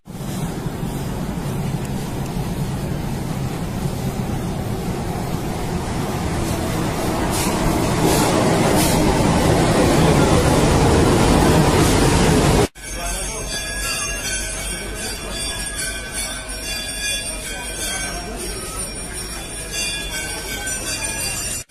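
A metro train at a metro station, with a rising roar of wheels and motor that swells for several seconds, then cuts to a quieter steady hum of the carriage.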